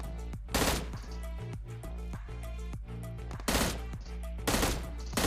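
Gunfire in the video game PUBG, with several sharp bursts of rapid shots over steady background game music, loud and close, no talk.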